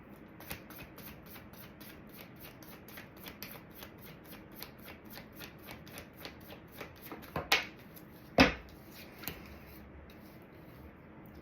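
Tarot cards shuffled by hand in a quick, regular riffling patter, close and quiet, with a few sharper taps and snaps near the end and no talk.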